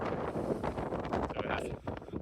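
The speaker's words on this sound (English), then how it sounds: "This wind keeps blowing me off the trail." Strong mountain wind with 50 mph gusts roars and buffets the microphone in a constant low rumble with gusty surges, close and loud, on a trail in Torres del Paine.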